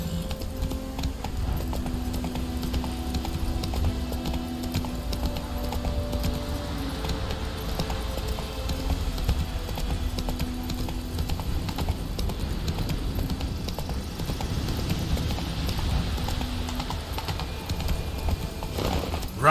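Hoofbeats of the horse Roach galloping in The Witcher 3: Wild Hunt, a steady rapid clip-clop rhythm running throughout over game music, with light jangling tack and no talk.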